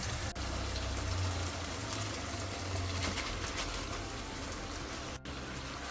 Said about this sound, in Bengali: এবার এটাকে মাটনের মধ্যে ঢেলে দেব